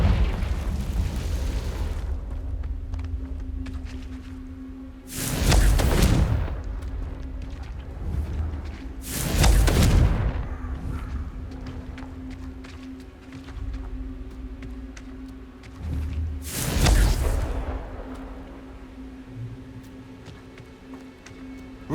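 Confringo spells explode in Hogwarts Legacy, four loud booming blasts spaced several seconds apart, each a sharp burst with a rumbling decay, over a steady low hum and quiet ambience.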